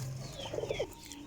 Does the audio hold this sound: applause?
no